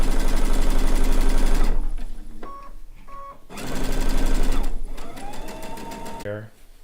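Domestic sewing machine stitching a blue and white quilt top with gray thread, set in a cabinet or on an extension table; two loud sustained whirring runs separated by a short pause, ending in a brief rattle.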